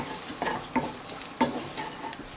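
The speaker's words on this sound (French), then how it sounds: "Une fois que l'oignon est doré, j'ajoute mon jambon que j'ai coupé en petits morceaux." Diced ham and golden onion fry in a pan, with a faint low sizzle under a few distinct clinks and scrapes of a utensil stirring, quiet and close.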